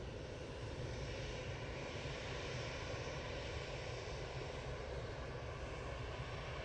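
An EasyJet airliner leaves Manchester Airport bound for Paris, a faint yet continuous engine rumble and roar holding steady across the whole stretch, with no talking.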